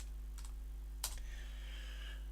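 A few quick keystrokes on a computer keyboard, two short bursts of clicks over a steady electrical hum, close and quiet with no speech.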